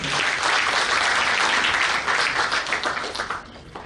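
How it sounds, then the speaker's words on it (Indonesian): A live audience at a seminar event in Surabaya breaks into loud, sustained applause, dense clapping filling the room before thinning out toward the end. "sekali lagi aplaus dong untuk Kang Gembong"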